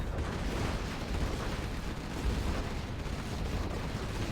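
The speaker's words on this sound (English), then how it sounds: "These Scorpions are going to do quite a bit of damage with their Anthrax tips and the rockets." Scorpion tanks fire rockets in the strategy game Command & Conquer Generals Zero Hour, a dense, continuous roar of overlapping blasts and booms with no pauses.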